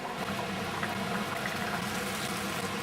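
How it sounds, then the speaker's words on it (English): Water boils in an open pot of plov, giving a steady, dense, close hiss of bubbling with no talk over it. "The boiling almost ceased, but deep inside you can see there is still hell going on."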